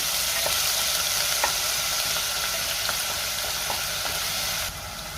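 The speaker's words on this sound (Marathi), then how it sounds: "त्यामध्ये आपण कांद्याची पेस्ट घालूया आता कांद्याची पेस्ट आपल्याला चांगली परतून घ्यायची आहे" Raw onion paste frying in oil over bloomed cumin seeds, a loud, close, continuous sizzle with periodic scraping clicks of a spatula stirring, easing slightly near the end; no one speaks.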